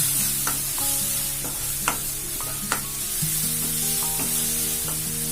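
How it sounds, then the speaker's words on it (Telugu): Garlic chicken masala sizzles steadily in a pan while coriander is stirred in, with scraping spoon strokes and tonal clinks of utensil against metal repeating over the continuous frying hiss. "సో కొరియాండర్ కూడా వేసుకొని మిక్స్ చేసుకుందాం"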